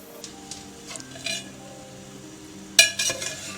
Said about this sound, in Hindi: इसमें हम ये सारी स्पैगेटी जो बॉईल की है वो डाल देंगे।